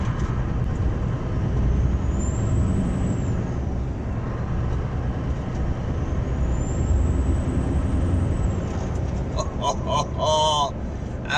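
A Scania R620 V8 truck's engine and road noise sound loud and steady throughout, with an air brake hiss and a faint rising tone near the end.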